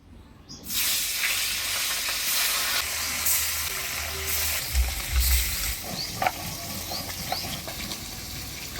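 Fish frying in hot oil in a wok, with a steady broad sizzle and hiss starting abruptly after a brief quiet moment and continuing close and loud, with occasional pops and crackles.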